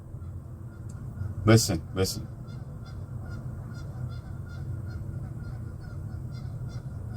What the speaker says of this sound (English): Those geese are trying to speak to you.